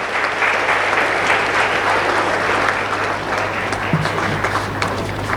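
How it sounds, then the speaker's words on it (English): An audience at a student felicitation ceremony applauds an architecture graduate, a full, even round of clapping from many people lasting throughout at steady loudness. "Let's give a big applause to her"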